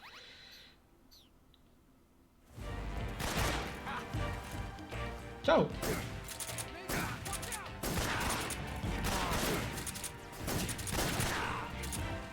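Cannon fire in Metal Gear Solid 3: after a quiet start, heavy repeated blasts and crashing impacts roll in loud and close, with a sharp hit midway. Someone talks over the gunfire.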